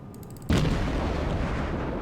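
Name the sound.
naval shells firing and exploding in World of Warships video game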